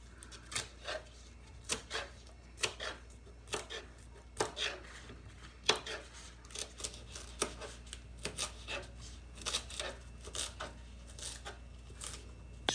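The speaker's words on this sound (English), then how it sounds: "and then we'll slice it." A knife slicing a peeled vegetable for a Cordillera pising recipe, a series of soft, fairly regular cutting taps and scrapes on a board, close and quiet with no talk.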